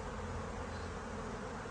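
A honeybee swarm hums steadily at close range, the bees fanning at the base of a hive frame as they settle in, a dense continuous buzz with no pauses.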